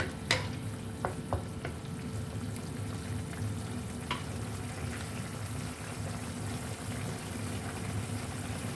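A tomato, tofu and minced pork sauce simmers in a pan, a steady low bubbling sizzle with occasional clinks and stirring taps, no talking.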